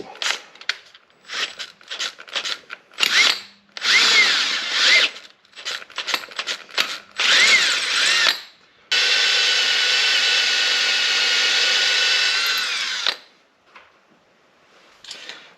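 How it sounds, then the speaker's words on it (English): A power drill with a quarter-inch bit whines in short bursts, then runs steadily for several seconds before stopping, loud and close with brief pauses between. "I'll make sure I use my 1/4 inch drill bit, and it might take a while"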